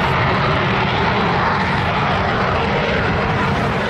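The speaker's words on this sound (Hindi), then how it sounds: "यूरोप से बहुत ही खतरनाक फाइटर जेट लॉन्च हो रहे हैं।" A fighter jet roars overhead, a loud, steady, broadband rumble that fills the whole stretch without pause.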